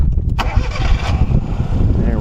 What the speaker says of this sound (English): Oh, so you want to crank it up? Turn it on. Crank it up.